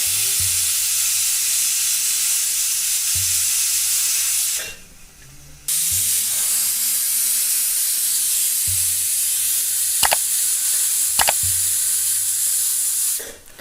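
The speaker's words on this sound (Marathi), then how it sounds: "बघा आपल्या 2 शिट्ट्या झालेल्या आहेत" A pressure cooker cooking black urad dal vents with sustained loud hissing bursts, broken by a brief pause and a couple of sharp clicks, the steam jets steady and close.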